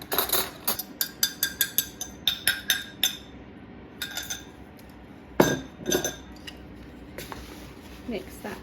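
Eggs cracked against a bowl and added to a cheese and spinach savoury muffin mix, heard as a quick run of sharp taps and clinks followed by scattered knocks and soft handling sounds, close and quiet.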